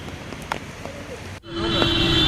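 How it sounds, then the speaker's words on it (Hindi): Heavy rain falling on flooded city roads in Ranchi, a dense, loud hiss of downpour over water that starts abruptly partway through, after a stretch of softer background noise. "भारी बारिश के बाद राजधानी की सड़कें किस तरह जलमग्न हो जाती है"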